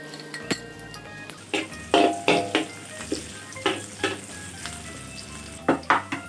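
Garlic and Chinese sausage fry in a pan for Thai sausage fried rice, with a steady sizzle broken by repeated scrapes and clinks of a utensil stirring against the pan.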